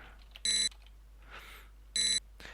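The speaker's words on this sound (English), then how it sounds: "It seems to be emitting a high-pitched beep." High-pitched electronic beep from a flashing button in the Space Quest 2 video game: two identical short, loud tonal beeps about one and a half seconds apart, alone over a quiet background.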